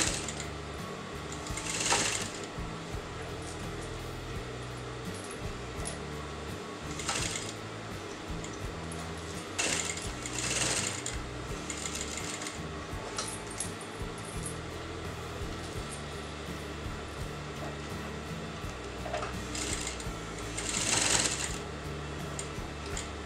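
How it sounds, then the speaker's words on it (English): A sewing machine runs steadily and close, stitching bias binding onto a kameez neckline, its rapid mechanical chatter continuous with occasional louder clacks as the fabric is turned. "little by little you're going to sew the bias to the neckline like this"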